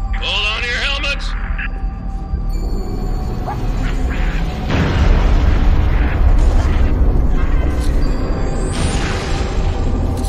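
Artillery barrage explosions in Halo Reach, heavy booms and bursts layered over constant battle noise and radio chatter, swelling louder midway through.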